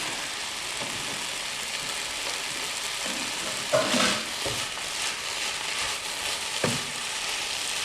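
Sauce-coated Asian stir-fry being tossed in a hot pan with the burner just switched off, a steady close hiss of sizzling with a few scraping stir knocks, no talking.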